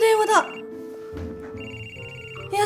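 Telephone ringing in a Japanese drama, a melodic electronic ring tone sounding between brief stretches of a voice at the start and end.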